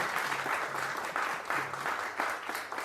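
An audience at a Marathi TV serial launch event claps for the producer in steady, moderately loud applause from a small crowd, lasting the whole stretch with no voice over it.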